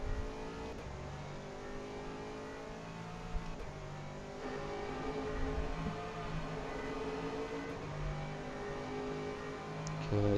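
A GT3 race car engine at Silverstone drones and builds as it accelerates, a steady tonal roar heard from the cockpit with gear shifts and small bumps along the way.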